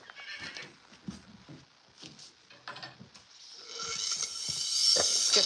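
Horses whinny and neigh in a stable, with clip-clop hooves and scattered shuffling. A steady hiss like running hose water builds toward the end. No one talks.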